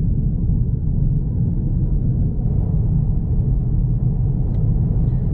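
Steady low engine and road drone inside a 2022 Peugeot 308 1.2 PureTech EAT8 GT on the move, a constant muffled rumble with no talking.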